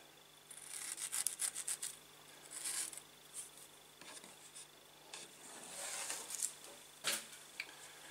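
Knife cutting the firmer core out of a halved tomato on a kitchen board, heard as a string of faint, scattered scraping and slicing rasps, close but quiet, with no talk.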